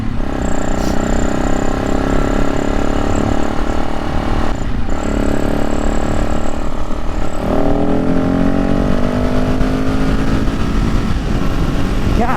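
A supermoto motorcycle engine roars loudly and up close, pulling through steady acceleration with rising pitch across gear changes, under constant wind rush.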